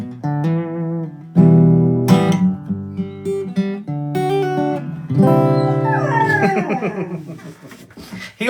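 A dog howls along to music in a minor key. Its long, wavering, rising and falling wails sound close and loud over sustained tones and carry on for several seconds.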